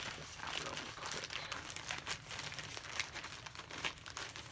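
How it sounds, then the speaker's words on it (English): Plastic packaging crinkles and crackles steadily at close range, with sharp rustling bursts scattered throughout and no talking. "sorry, I'm not really good about all this crinkling"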